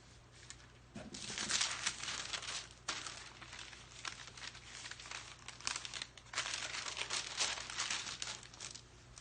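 Paper crinkles and crackles as a solid bubble bar is massaged and peeled off it, in close, irregular bursts of crisp rustling lasting several seconds.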